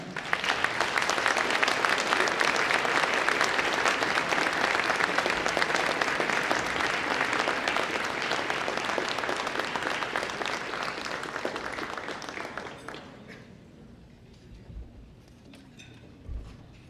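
Sustained, dense audience applause at a Republican committee Lincoln Day luncheon, steady and full for about twelve seconds before tapering off into a few scattered claps and quiet room noise.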